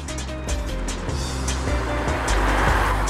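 A car with a torquey 2.3-litre V5 engine drives along, its steady low engine drone and road rumble continuous and fairly loud throughout.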